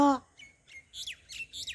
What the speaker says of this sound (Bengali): কোকিল ডাকছে দিদা।